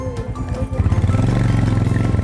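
A Royal Enfield motorcycle settles into a steady, rhythmic low thump after a rougher start, heard close and fairly loud with no talk over it.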